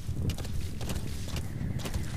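Horse hooves clip-clop in an uneven trotting rhythm over a low rumbling background, with no voices, in the video game Metal Gear Solid V: The Phantom Pain.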